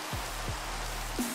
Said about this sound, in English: It's raining now though, which is useful.